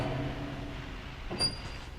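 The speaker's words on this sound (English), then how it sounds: "that rumbling that he heard at 12 every day was the train going over or under" A train rumbles low and steady in the video game What Remains of Edith Finch, with a brief brighter metallic swell of passing cars near the end and no voices.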